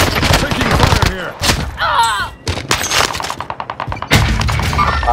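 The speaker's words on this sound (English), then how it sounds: "Taking fire here." Rapid gunfire bursts crackle through a Rebirth Island squad match in a shooter game, loud and close with short repeated volleys, while players talk over the shots.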